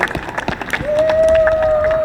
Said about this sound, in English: That is the applause I was talking about.